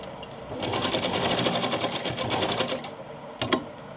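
A sewing machine stitches a small Laddu Gopal summer dress, its needle running in a fast, steady whirring rhythm for about three seconds, then stopping before a brief final burst, close and clear.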